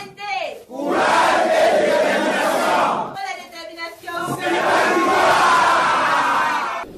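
A large crowd applauds and cheers loudly at a UNT party gathering as national president Kabratouka Badiona is installed. The dense roar runs in two sustained bursts separated by a brief dip near the midpoint.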